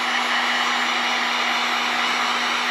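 A hair dryer blows close and loud in one continuous, even whoosh with a steady whine, drying alcohol on a patch.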